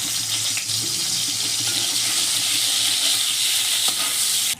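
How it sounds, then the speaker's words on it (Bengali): Salted hilsa fish frying in a little oil, a steady continuous sizzle with faint crackles and a few soft clinks, close and even throughout. "প্রথমে তেল দিলাম অল্প, মাছটাকে ভেজে নিলাম"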